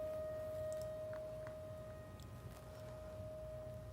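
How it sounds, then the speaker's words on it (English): Tornado warning sirens sound faintly in the distance outside a TV studio, a steady sustained wail under a low background hum. "We are hearing the sirens now outside of our studios."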